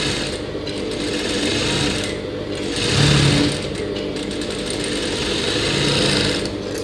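A sewing machine stitches folded, doubled blouse fabric for a frilled neck and sleeve on a party-wear saree blouse. Its whirring runs steadily and close up, with slight swells in intensity and no talking.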